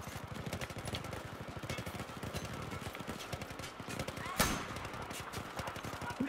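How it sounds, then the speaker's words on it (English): Rapid bursts of automatic gunfire fill a Battlefield 4 campaign firefight, a steady stream of close, loud shots with one sharper blast partway through, mixed under game voices. "Who's shooting at me?"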